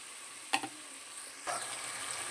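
Masala frying in a pan for a village-style mutton curry with ground spice paste makes a quiet, continuous sizzle, with one sharp utensil knock early on and a stir that brings a brief swell of crackle.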